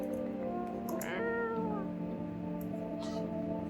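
A cat meows in a video game, one drawn-out, rising-and-falling meow close up over a steady low background hum.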